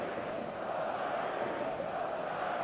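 A stadium crowd in the eFootball game gives a continuous, dense roar of cheering before kickoff, even and unbroken throughout.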